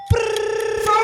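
A person imitates an alarm clock ringing during a sound-guessing game, a short sustained electronic-like tone with rapid pulsing, lasting about a second.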